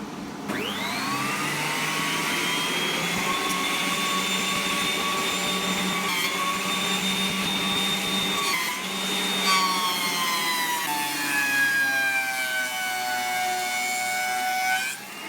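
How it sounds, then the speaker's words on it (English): A thickness planer mills live-edge wood slabs mounted on a melamine reference board. It is loud and close, with a continuous roaring whine whose pitch drifts and shifts as the cut proceeds for about fifteen seconds. "I decided to use a thickness planer for both faces"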